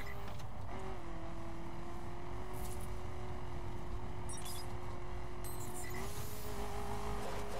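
A car engine in The Crew racing game holds a steady high drone with small pitch shifts as it races along, loud and continuous with a faint voice underneath.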